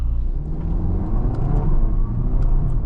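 A 2026 Audi Q3 with a dual-clutch transmission accelerating hard, its engine note rumbling and rising, with quick upshifts briefly interrupting the pull, heard close from inside the cabin.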